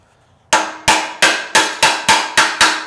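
Hammer blows drive a chisel into a steel channel while a GTO front bumper is customized, eight sharp metallic strikes at an even, quickening rhythm, close and loud, each ringing briefly before the next.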